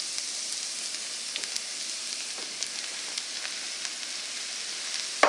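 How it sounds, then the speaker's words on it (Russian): Mushrooms frying in a skillet make a steady close sizzle with scattered sharp pops and crackles, continuous from start to finish with no voices. "2-3 минуты их обжарим в сковороде."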